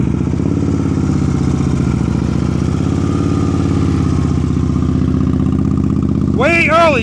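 A motorcycle engine runs steadily at low revs during advanced slow-speed riding practice in North Carolina, with a constant close drone that rises and dips slightly, and a voice calls out instructions near the end.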